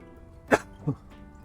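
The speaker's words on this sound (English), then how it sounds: "I don't want to cough your ears off" Two sharp coughs from a single person, the first louder and the second softer, about a third of a second apart, close to the microphone in an otherwise quiet room.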